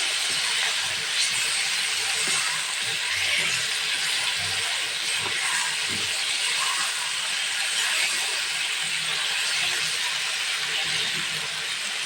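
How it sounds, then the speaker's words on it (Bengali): Ginger-garlic paste sizzles in a hot pan while chicken curry is being cooked, a steady, even frying hiss that continues without a break throughout. "এটাকে আবার হালকা ভাবে দিয়ে ভেজে নিচ্ছি"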